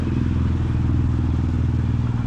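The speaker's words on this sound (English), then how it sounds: "And you see that 2024 Can-Am Spyder RT Limited" A 2024 Can-Am Spyder RT Limited three-wheel motorcycle runs with a steady, close engine rumble. The low, throbbing drone holds even throughout, with no speech.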